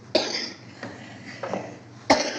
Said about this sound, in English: We've got the coughs.